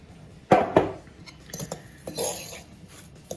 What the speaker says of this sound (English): You can mix it with a fork